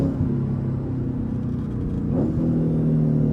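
Inside the cabin of a Lexus ISF with a new exhaust, the engine rumbles in a muffled, steady drone, the revs swelling slightly and settling, with no talking.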